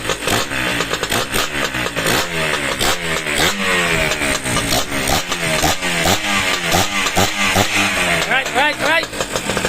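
A freshly restored engine, tested off its chassis in a workshop, runs steadily with a loud rhythmic idle and fluctuating revs, its pulses dense and close up with people talking over it.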